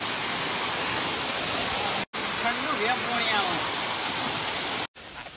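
Rushing water of the Akada waterfall in the Saputara hills, a steady broadband roar that holds throughout and briefly cuts out twice, with faint voices beneath it.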